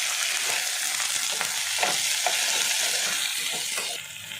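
Ginger, tomato, mint, cloves and cinnamon frying in a pan for a Hyderabadi paneer gravy: a dense, loud, steady sizzle with a few soft stirring scrapes, fading slightly at the end.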